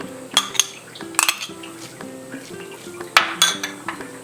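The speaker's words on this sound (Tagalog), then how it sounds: "paghahaluin na natin lahat ng ating ingredients" Spoon clinking and scraping against a bowl while dumpling filling of ginger, garlic, onion and meat is mixed, a series of sharp metallic taps and scrapes in uneven rhythm, close and fairly quiet.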